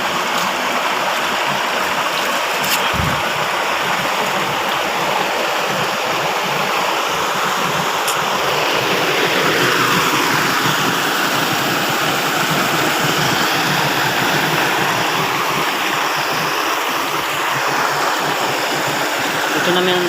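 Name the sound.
artificial waterfall flowing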